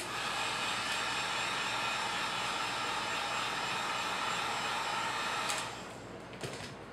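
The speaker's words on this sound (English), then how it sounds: "I'm going to go ahead and hit them with the heat gun" A heat gun blows a steady, close roar of hot air over Worbla pieces for about five and a half seconds, then cuts off, leaving a quieter hum and a couple of light clicks.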